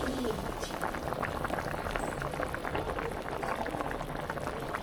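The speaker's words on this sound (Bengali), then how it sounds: "আলু সিদ্ধ হয়ে গেছে" Potatoes boil in a pot that has been covered, giving a dense rolling bubble close by, while a voice speaks a few words over it.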